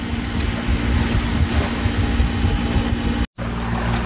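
A commercial catamaran motors across a bay on the Great Barrier Reef in Australia, giving a steady, moderately loud engine drone with wind noise and a brief dropout near the end.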